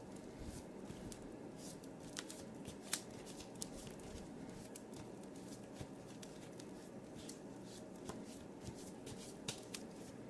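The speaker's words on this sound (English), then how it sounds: "So a quick shuffle" Quiet, continuous riffling of a deck of cards being shuffled, with scattered light snaps and clicks over a soft background hiss.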